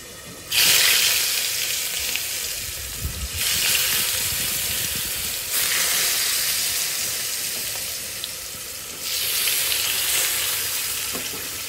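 Sweet pumpkin pieces fry in hot oil for a mashed pumpkin dish, giving a steady close sizzle that swells in louder surges as the pieces are stirred and turned.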